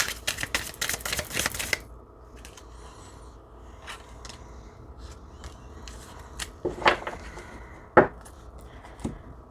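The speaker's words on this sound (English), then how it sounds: "Let me shuffle again." A quick flurry of card riffling opens, followed by scattered soft taps and clicks of cards being handled nearby in a quiet room.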